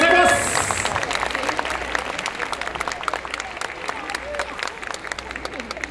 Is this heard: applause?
yes